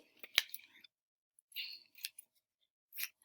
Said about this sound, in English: I'm cutting to the sky, keeping my scissors to the sky